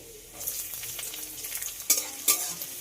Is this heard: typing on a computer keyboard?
no